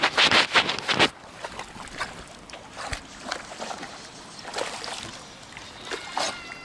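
On a hot-weather walk with a pit bull, water splashes and sloshes onto the camera in loud, close bursts, a quick cluster at the start and then irregular splatters and drips.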